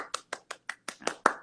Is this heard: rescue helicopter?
no